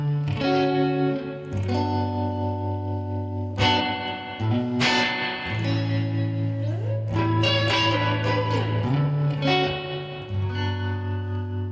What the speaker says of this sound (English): And then you get like a Les Paul. Same amp, different everything else.